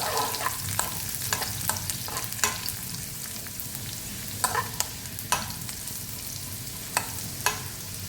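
Chopped garlic is stirred into a pan of eggplant chutney (baingan bharta), with a soft continuous sizzle under a series of sharp spoon scrapes and taps against the pan at irregular intervals, close and moderately loud, no talking.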